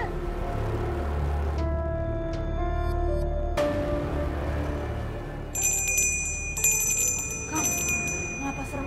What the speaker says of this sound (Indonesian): Itu lonceng-lonceng.